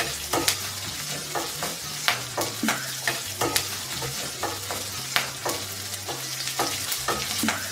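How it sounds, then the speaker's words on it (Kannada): Ginger frying in a pan for sabudana pongal, a bright close sizzle broken by frequent rhythmic scrapes and clinks of a stirring spoon, with no talk. "ಶುಂಠಿ ಒಂದ್ ಸ್ವಲ್ಪ ಚೆನ್ನಾಗಿ ಫ್ರೈ ಮಾಡ್ಬೇಕು"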